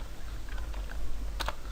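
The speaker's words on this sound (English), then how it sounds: "if I hold the Alt key down on the keyboard and press enter" Two quick keystrokes, Alt held and Enter pressed, on a computer keyboard: faint clicks over a steady low room hum, close and quiet, with no talking.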